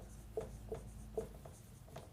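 A pen writes an answer by hand on paper, giving faint, close scratching strokes in a few short separate bursts against a quiet background.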